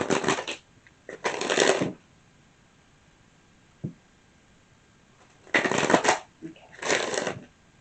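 Four bursts of tarot cards being shuffled, crisp riffling rattles in two pairs with a quiet gap and a faint tap between them, close by.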